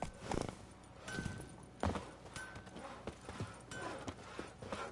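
Roach, a horse in The Witcher 3, moves in a rhythmic clip-clop of hooves with uneven, loud strikes and a faint soft background. There is no talking.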